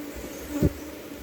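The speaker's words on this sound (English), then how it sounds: "Come on, bees." Bees buzzing around a hive frame under repair, a close low hum that swells briefly as one passes near.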